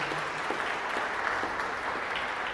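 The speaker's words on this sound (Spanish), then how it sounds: "Denle un fuerte aplauso a Cristo," Church congregation applauding during a pastor's sermon, a steady, moderately quiet wash of clapping that carries on evenly without any talk over it.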